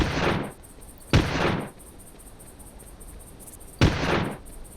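Shotgun fire in the dinosaur-hunting game Carnivores+, three loud, sharp blasts with decaying tails, spaced irregularly over a few seconds against a quiet background.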